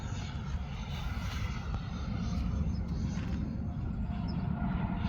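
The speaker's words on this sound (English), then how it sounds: "I'll give you guys a high-speed downwind pass here." E-flite F-16 80mm electric ducted fan RC jet makes a high-speed downwind pass, a continuous whooshing turbine-like whine and rush that swells slightly as it goes by, steady and moderately loud.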